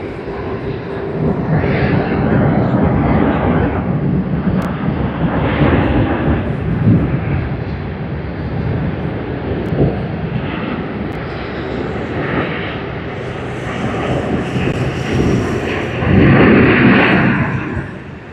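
An airliner touches down on the runway at Sydney Airport during a busy peak hour, a loud, sustained roar of engines and wheels rumbling continuously close by and swelling toward the end.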